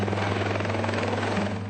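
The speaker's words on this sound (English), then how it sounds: "He's not flying the chopper, but Mark Eyre is a pilot, a marine pilot." Helicopter flying over Port Hedland at dawn, a loud steady rotor and engine drone with a strong low hum, alone with no voices.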